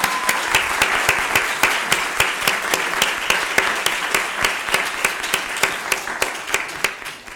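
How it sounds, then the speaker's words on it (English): A conference audience applauds in sustained, even clapping with a steady rhythm of distinct claps standing out over the dense crowd noise, loud and continuous throughout, with no voices above it. "a huge round of applause"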